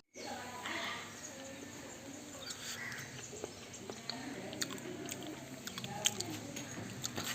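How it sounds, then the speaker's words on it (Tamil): Chewing while eating fried murrel fish outdoors, with soft, wet, squishy bites close by over a low background hiss and occasional faint clicks. "சாப்பிட்டுக்குவோம்."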